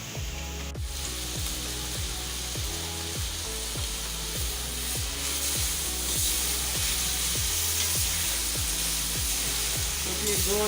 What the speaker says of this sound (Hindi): ये गोश्त हमारा फ्राई हो चुका है।